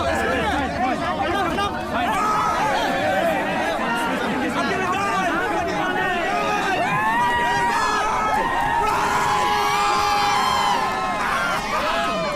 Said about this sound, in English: everyone's cheering for him